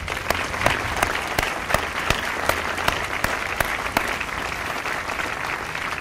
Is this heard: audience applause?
yes